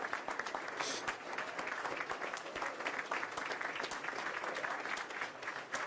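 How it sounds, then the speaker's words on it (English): A crowd audience claps continuously and densely throughout, a steady wash of applause at moderate level with no pauses. "Why are we clapping so much?"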